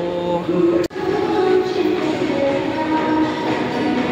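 Cable car station at the base of the line up Fansipan Mountain in Sapa, Vietnam: a steady mechanical rumble and hum from the machinery fills the space, broken by one brief dropout near the start, with no one talking.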